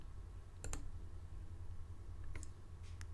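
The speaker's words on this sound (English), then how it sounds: "click to send the data" A few sharp computer mouse clicks, close and crisp, spaced apart over a low steady hum, with no voices.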